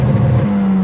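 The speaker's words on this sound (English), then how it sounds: "Someone asked for the rev limiter" A turbocharged Volvo engine with an IPD turbo cam holds against its spark-cut rev limiter, a loud, steady, close droning rev across a very brief moment.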